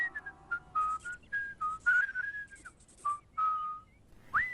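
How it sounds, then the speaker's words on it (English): A cartoon character whistles Christmas carols to himself, a clear solo melody of sustained and sliding notes with short gaps, close and unaccompanied, ending on a quick upward swoop. "Purdy lightens up, transfers the kid, and whistles some more Christmas carols to himself."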